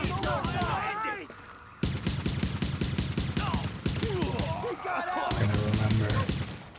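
Rapid automatic gunfire with recoil in a shooter game, steady fast bursts broken by brief pauses, loud and close, with a voice speaking over the shooting.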